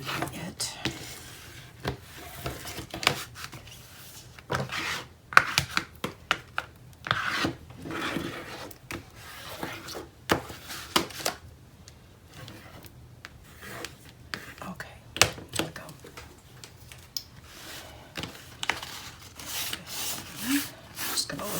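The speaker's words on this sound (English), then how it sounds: "now I want to burnish this tape because I didn't do that yet" A bone folder is rubbed firmly over tape on a papercraft winter folio, giving close, rasping strokes in short irregular bursts, with quiet talk in places.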